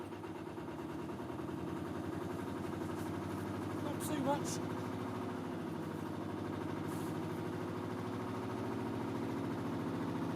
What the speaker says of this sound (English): Gun the engine.